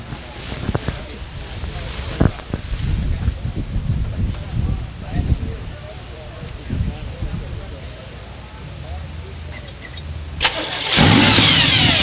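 A hot rod car engine cranks and catches, then runs at a rough idle, with people talking nearby over it before it revs up louder near the end.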